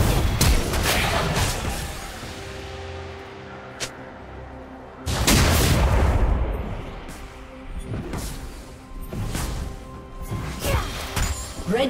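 In a League of Legends match, a turret is destroyed with heavy explosive crashes and booming blasts, a big burst midway followed by scattered smaller impacts.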